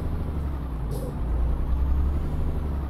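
A truck's air brakes in Euro Truck Simulator 2 hiss steadily over a constant low engine rumble, with a brief sharper release partway through.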